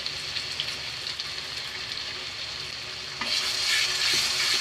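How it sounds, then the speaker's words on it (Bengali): Ginger and garlic paste frying with spices in a pan for a chicken bhuna, a steady dense sizzle close by that grows louder and brighter near the end, with no talking. "আদা রসুনটা ভালো মতো কষে নিব যাতে গন্ধ না থাকে"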